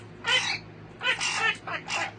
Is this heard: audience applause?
no